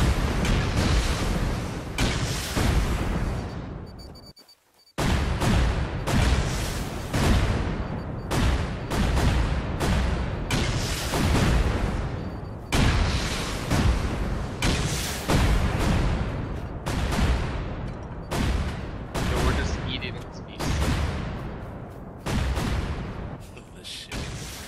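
Rockets fire and explode one after another in a video game, a long run of heavy, booming blasts. The explosions break off briefly once, then keep pounding loudly at a fast, uneven pace.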